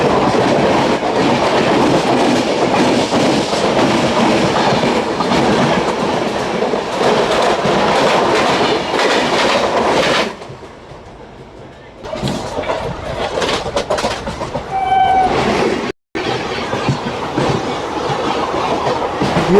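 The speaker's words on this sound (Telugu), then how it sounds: "అది లింగంపల్లి ఇంటర్సిటీ ఎక్స్ప్రెస్ అండి. Vijayawada Lingampalli intercity express." The Vijayawada–Lingampalli Intercity Express passes alongside on the next track: a loud, close roar of rumbling wheels and rapid clatter that dips briefly partway, then surges back and carries on to the end.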